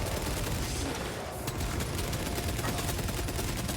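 A weapon in the game Space Marine 2 fires grenades in a dense, continuous volley of rapid blasts and explosions, loud and constant throughout with no pause.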